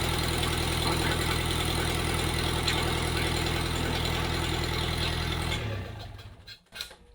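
A Kubota V2203 diesel engine swapped into a Jeep idles loudly and steadily with a heavy, even rumble, then is shut off with its shut-off lever and quickly winds down to near silence.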